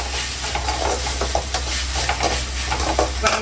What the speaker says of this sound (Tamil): வெங்காயம் நல்லா வதங்கிடுச்சு இப்போ வந்து நான் வந்து இஞ்சி பூ இஞ்சி பூண்டு சேர்த்துக்கிறேன்